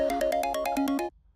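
A telephone ringtone plays a quick, bright electronic melody of about nine clipped beeping notes, clear and fairly close, then stops abruptly into silence.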